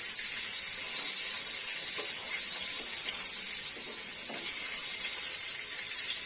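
Bangda (mackerel) pieces frying slowly in a pan, a continuous close hiss and sizzle holding at an even level throughout, with no voices.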